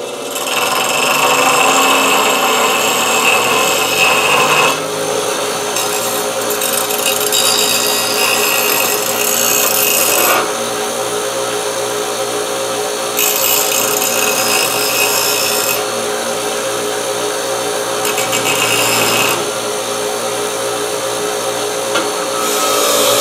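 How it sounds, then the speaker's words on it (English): A power tool grinds a round metal piece for a homemade bike trailer hitch, running in loud sustained bursts broken by short pauses, with a harsh raspy texture close to the mic. "I just got to grind this round a little."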